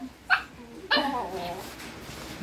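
Chihuahua dogs playing give two sharp barks close by, the second trailing into yappy whines, over a quiet room background.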